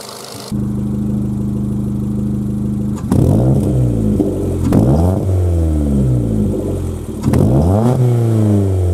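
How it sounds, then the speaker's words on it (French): A Ford Fiesta 60 hp engine idles steadily, then revs up in several rising bursts, each climbing and falling back, loud and close with an airy intake rush from the air filter. "je vais vous faire écouter maintenant le filtre"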